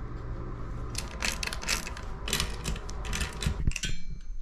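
A rear brake caliper is worked off a Guerrilla Gravity mountain bike frame, producing faint, close metallic clicks, ratcheting taps and small rattles in quick irregular bursts, with no talking.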